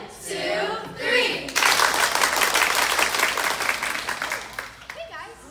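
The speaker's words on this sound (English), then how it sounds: "Let's clap really loud on three." A children's choir group at a princess tea event bursts into loud, energetic clapping after a brief stretch of voices, the dense applause continuing for several seconds before tapering as speech returns near the end.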